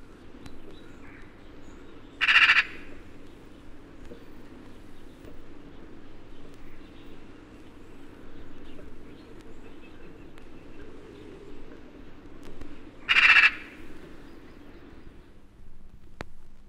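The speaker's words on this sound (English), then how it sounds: "the magpie sits on some tall tree and rattles away" A magpie perched high in woodland gives its harsh rattling chatter: two short, loud bursts about ten seconds apart over a quiet, low background hum.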